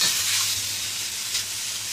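Prawns and garlic fry in a hot wok, giving a loud, close, steady sizzle with a bright hiss that holds constant throughout, with no voices.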